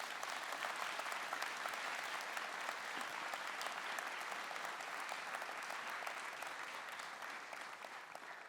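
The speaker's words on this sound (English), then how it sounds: "Please, a warm round of applause." Sustained applause fills the hall at a good-governance forum honoring an Ibrahim Prize recipient, an even wash of many hands that tapers slightly near the end.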